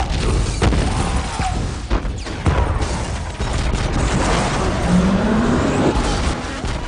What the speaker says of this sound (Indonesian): ledakan besar pun terjadi, meruntuhkan gedung itu perlahan